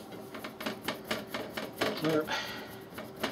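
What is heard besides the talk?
screw being driven into computer case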